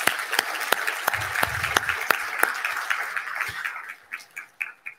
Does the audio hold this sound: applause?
yes